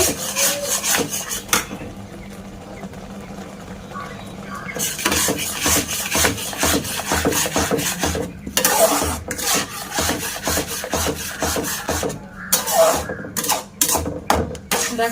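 Semolina is stirred in a pan with steady rhythmic scraping strokes, close and rasping, with a few lighter clinks of the utensil against the pan.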